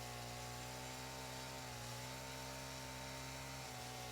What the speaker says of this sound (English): and when I finished sawing, I sawed some more.